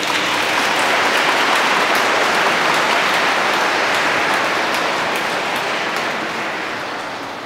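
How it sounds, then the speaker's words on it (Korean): Sustained, dense applause from a large concert audience welcoming a cardinal at a 2019 memorial concert for Cardinal Kim Sou-hwan, steady and loud throughout before tapering slightly at the end. "염수정 추기경님 모실 테니까 큰 박수로 환영합니다."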